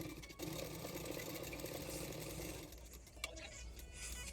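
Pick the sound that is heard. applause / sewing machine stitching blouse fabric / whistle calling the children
sewing machine stitching blouse fabric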